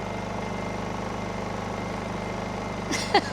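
A Honda EU2000i generator runs steadily close by, a rapid pulsing engine drone at constant loudness, with a brief clatter of handling near the end.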